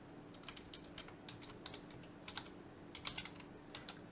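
Keystrokes on a computer keyboard while writing C# code for a 3D rendering engine, quiet and close, coming in irregular bursts of clicks with a faint steady hum underneath.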